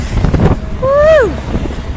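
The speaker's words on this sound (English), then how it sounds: "it is windy" Wind buffets the microphone in a rough, low rumble, with a brief gliding whistle-like tone rising and falling midway.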